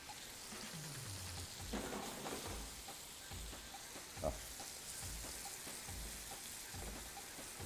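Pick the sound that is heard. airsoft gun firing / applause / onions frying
onions frying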